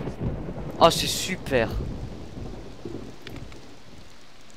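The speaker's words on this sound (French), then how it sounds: "regardez, il commence à faire orage" Thunderstorm with rain in the video game RollerCoaster Tycoon 3: two thunder cracks roll in early over a steady hiss of rainfall that fades slightly, with a man's brief remark over it.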